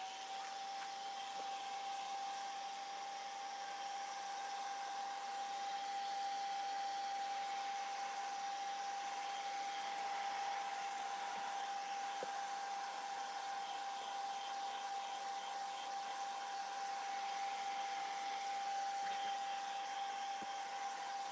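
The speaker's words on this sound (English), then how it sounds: "let's work on drying this just a little bit. And I apologize, I will not have this loud hair dryer next time." A loud hair dryer blows continuously on a painting of a dove, a steady unbroken whir with a high tonal whine throughout.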